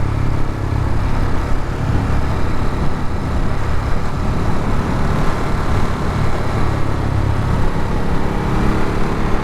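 A Ducati Monster 937 motorcycle riding a twisty mountain road on Route 23, its engine droning steadily and loudly throughout with heavy wind rush and no voices.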